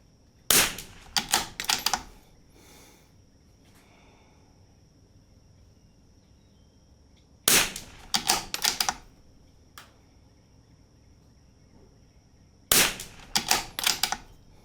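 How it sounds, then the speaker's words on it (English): Rimfire precision rifle fired at a 50-yard target during pre-match prep: three separate clusters of sharp, cracking reports with quiet gaps between them, and no talking. "I may shoot a 4-round group again at 50 just to verify that I agree with my adjustment."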